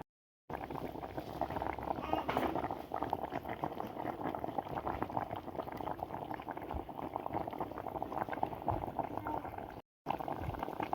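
Fish stew of tuna in coconut milk bubbling in a clay pot, a steady close simmering and gurgling that runs throughout with no voices.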